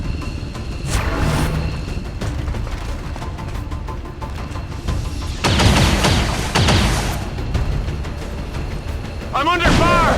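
Gunfire in the XCOM 2 War of the Chosen video game: loud bursts of shots and booms, strongest near the middle and again at the end, over continuous game noise and sound effects.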